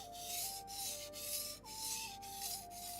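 A knife blade is drawn across a whetstone in repeated long, even strokes, each a close gritty rasp separated by brief pauses, with a faint tonal hum in the background and no speech.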